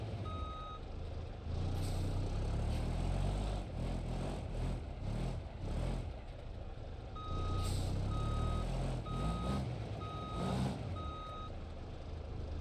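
A big two-wheel-drive truck with walking axles in BeamNG.drive backs up. Its engine rumbles loud and close while a reversing alarm sounds in evenly spaced bursts of steady beeps.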